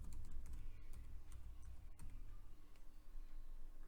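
Someone types a password on a computer keyboard, producing a quick run of light key clicks with brief pauses, close and quiet, with no talking.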